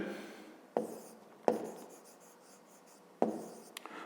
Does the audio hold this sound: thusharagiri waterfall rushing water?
no